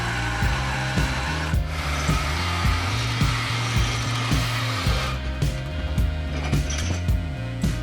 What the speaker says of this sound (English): A sawzall is the best tool to remove the old mufflers.